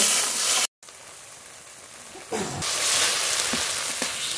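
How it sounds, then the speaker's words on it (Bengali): A spice paste of ginger, green and dried chillies, salt, turmeric and a little water sizzles and fries steadily in a pan, a continuous close hiss that grows louder partway through, with faint stirring taps and no talking. "স্বাদ মতো লবণ, পরিমাণ মতো হলুদ গুঁড়ো, সামান্য জল দিয়ে মশলাটা কষিয়ে নেব।"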